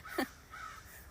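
Crow cawing outdoors, one clear caw followed by a softer, drawn-out second call, faint and at a distance.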